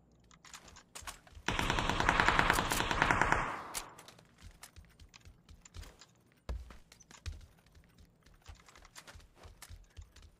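Gunfire in a shooter video game: a loud, sustained burst of rapid automatic fire lasting about two seconds, then scattered quieter clicks and thuds.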